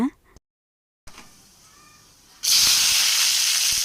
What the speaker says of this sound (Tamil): 3 ஸ்பூன் நல்லெண்ணெய் ஊற்றி எண்ணெய் காஞ்சதும் கடுகு போட்டு தாளிச்சுக்கோங்க.